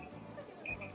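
An alarm clock rings in a visual novel video game: short, bright electronic beeps, fairly faint, in the latter half of a brief, quiet moment.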